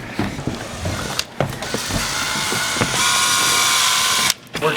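A power drill driving into a cheap skateboard's wheelbase, with bursts of whirring and ratcheting mechanical grind, brief pauses between runs, up close and loud.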